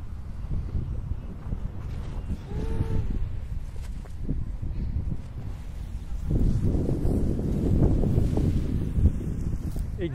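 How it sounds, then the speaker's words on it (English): Wind blowing outdoors during freestyle kite flying, a steady rushing roar with buffeting on the microphone that swells louder in the second half. "Let's see with more wind."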